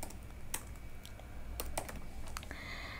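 Close computer keyboard typing while writing JavaScript for a React project, a short burst of irregular key clicks with a few sharper strikes and no voices.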